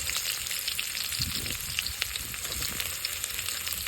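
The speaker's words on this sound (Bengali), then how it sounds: "কাঁচামরিচ, সব কিছু একটু ভালোভাবে ভেজে নিই।" Chopped onion, garam masala, garlic and green chilli frying in oil in a wok give a loud, dense, continuous sizzle up close, with faint stirring knocks and no speech.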